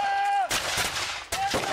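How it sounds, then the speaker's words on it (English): At a multi-period battle reenactment, a French cannon fires with sharp, loud blasts, two cracks about a second apart, heard outdoors after a brief tonal sound. "There goes the French cannon."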